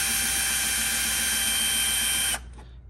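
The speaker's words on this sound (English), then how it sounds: "I got my Milwaukee power tool here." A Milwaukee cordless power tool whirs steadily as it backs out screws from plastic mirror trim on a Porsche 911 GT3, running loud and close for over two seconds before cutting off abruptly.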